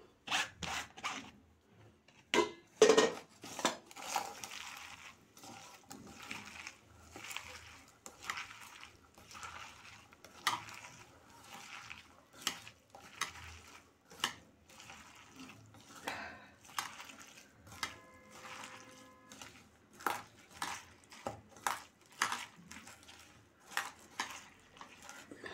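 Boiled potato mashed with turmeric, coriander leaves, chilli and onion for pakoras gives a series of soft, irregular squishing and scraping sounds against a bowl, close and quiet, with pauses between strokes.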